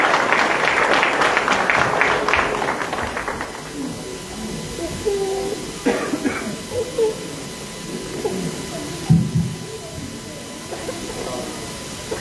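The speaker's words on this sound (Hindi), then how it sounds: "रवि जी के लिए जोरदार तालियां हो जाती हैं" Clapping from an audience at a Ram Leela community event fades out over the first few seconds, then gives way to scattered room noise and a few faint voices.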